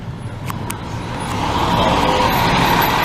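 A fire truck responding to a call rumbles closer, its engine growing louder and heavier, with a couple of short air hisses early on.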